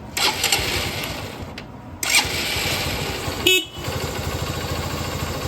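A used motorcycle in fresh condition idles with a steady, close engine putter, broken by brief horn-like bursts and a couple of sharp blips.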